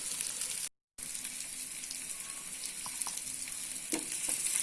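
Vanjaram fish frying in a pan, a steady bright sizzle of hot oil with faint crackles and small pops throughout, briefly cut out for a moment.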